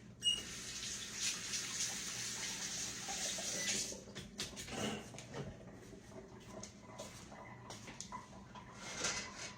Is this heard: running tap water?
yes